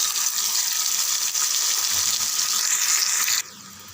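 Ground tomato paste poured into hot oil with crackling mustard seeds and curry leaves, a loud steady sizzle that cuts off abruptly near the end.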